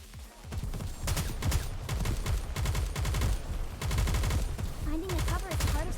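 Rapid bursts of gunfire from the shooter game Nikke: Goddess of Victory, loud and dense throughout, with repeated sharp shots and a brief voice-like sweep near the end.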